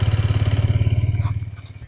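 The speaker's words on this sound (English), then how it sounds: "This is what it sounds like on idle." A Hero Xtreme 250R motorcycle engine idles close by with an even, rapid thumping pulse that holds steady, then fades slightly toward the end with a light clatter.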